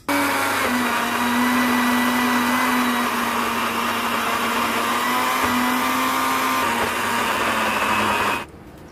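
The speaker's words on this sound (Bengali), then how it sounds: "এখন ব্লেন্ডার করে ফেলবো" A blender whirs loudly and steadily for about eight seconds blending boiled sweet potato, then abruptly stops.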